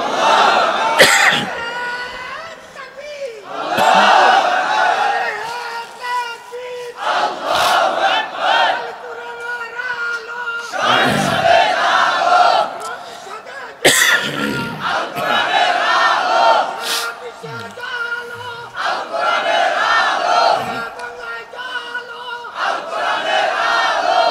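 Large rally crowd chanting the takbir response in loud, repeated bursts of massed voices, several swells of shouting separated by short pauses, filling the space with a roaring, echoing chorus.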